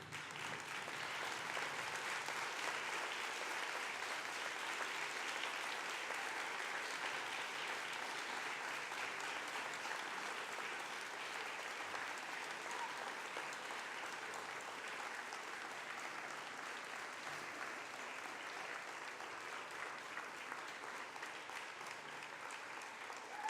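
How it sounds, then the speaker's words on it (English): Steady, sustained applause from a large ceremony audience honoring a graduating class, dense and even throughout with a faint crowd murmur underneath. "give them a thunderous round of applause"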